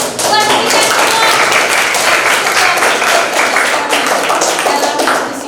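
A school class claps hands together in a classroom, loud, close and steady for several seconds, with a few voices mixed in.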